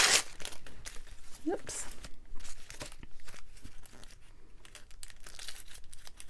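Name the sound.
tearing off a piece of paper for a junk journal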